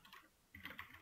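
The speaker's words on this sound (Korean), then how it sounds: "그냥 타이핑 합시다." Brisk, irregular clicking of a computer keyboard while entering test database data in a web development class, fairly faint at first and then a denser, louder burst of keystrokes in the second half, with no voices.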